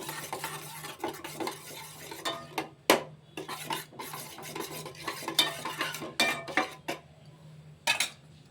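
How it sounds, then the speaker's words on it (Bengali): Egg dish ingredients mixed by spoon in a bowl with Kashmiri chilli powder and salt, giving a run of close, uneven clinks and scrapes, several in quick succession, with short quiet gaps between them. "সমস্ত উপকরণ দিয়ে ভালো করে আমরা মিশিয়ে নেব।"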